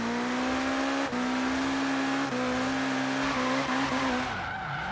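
A drift car in Forza Horizon 3 runs onto grass and spins out, its engine note dropping in stuttering steps over continuous tire squeal and skidding, loud and close throughout.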